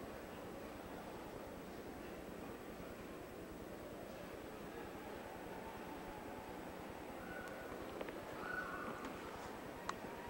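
Racehorses gallop at Hawthorne Race Course in 1995, a steady low drumming of hooves mixed with crowd and track ambience, continuous and moderately distant, with a few brief sharp sounds near the end.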